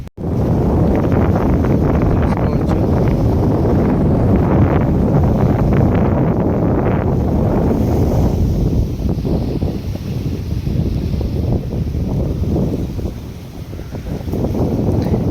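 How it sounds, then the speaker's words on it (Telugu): Floodwater released from seven opened dam gates surges over flooded fields in a loud, continuous broadband roar, partly buffeted by wind on the microphone, easing slightly toward the end. "ఏడు గేట్లు తెరిచిరంట అందుకే ఇంత ఫ్లో అయితే వస్తుంది మీకు చూపిస్తా"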